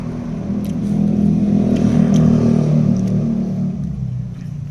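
Road traffic rumbles past nearby, a vehicle's engine swelling louder and then fading, with a steady low hum of passing cars.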